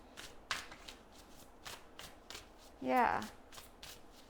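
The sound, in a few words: tarot cards being shuffled and pulled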